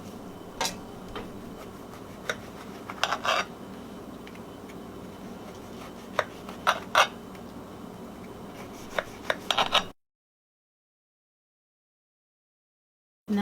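A knife cuts through layered baklava pastry in soft, scratchy strokes with scattered crisp crackles and taps, quiet and close, before the sound cuts to silence.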